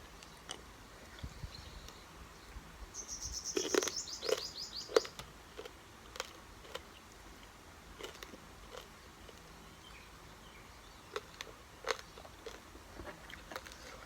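Crispy fried tilapia is eaten with papaya salad in close, crackling bites and crunches, loudest in a cluster early on and then scattered chewing crunches over a quiet background.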